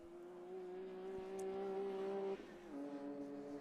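Mazda MX-5 race car at full throttle down the back straight at Snetterton, a steady high engine drone with clear harmonics that holds, then dips briefly as the pitch drops near the end before settling again, loud and close.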